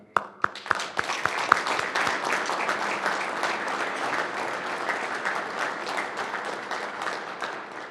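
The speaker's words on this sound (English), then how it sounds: "we applaud you for that" Graduation ceremony applause at a training center opens with a few sharp, separate claps, then swells into a dense, sustained crowd clapping that stays steady and fairly loud to the end.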